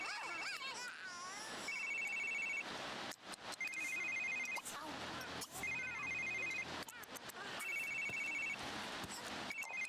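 A household telephone rings in The Sims 3, a trilling ring repeating in regular bursts about every couple of seconds amid busy game noise and cartoonish Simlish chatter.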